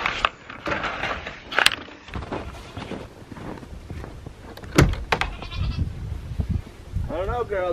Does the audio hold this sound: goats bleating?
yes